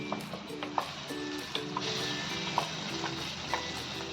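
Onion and tomato paste frying in hot masala for a spicy village-style drumstick curry: a steady soft sizzle with regular stirring scrapes and clicks from a spoon in the pan, close up and without talk.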